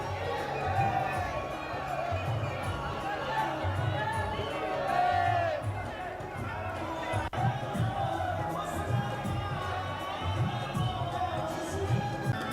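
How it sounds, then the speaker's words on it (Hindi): Dense crowd of devotees at the Baba Shyam fair chanting and shouting slogans while marching, a continuous loud roar of many voices with rhythmic chants rising and falling throughout. "बाबा श्याम के जयकारे लगाते हुए भक्त हाथों में निशान लिए आगे बढ़ रहे हैं।"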